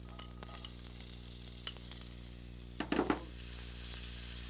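Onions sizzling in meat drippings in a pan, a steady close fry with a brief louder burst of crackling and stirring near the end; no talk.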